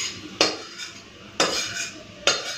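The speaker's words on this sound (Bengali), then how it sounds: "এখানে নিয়ে নিচ্ছি থালাতে।" Garlic, onion and dried red chilli, fried until red, scraped from a pan onto a plate: three sharp metallic clinks and scrapes of a utensil against cookware, spaced about a second apart, close and fairly loud with quiet between.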